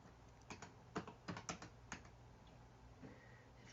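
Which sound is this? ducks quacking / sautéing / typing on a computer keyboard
typing on a computer keyboard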